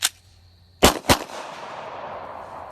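Gunshots at night, a sharp crack at the start and then two loud reports close together, each trailing into a long rolling echo that fades slowly.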